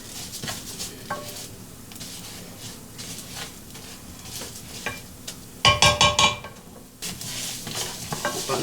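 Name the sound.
stirring fried rice with sausage in a pan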